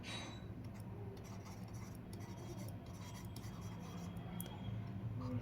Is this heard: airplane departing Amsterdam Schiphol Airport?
no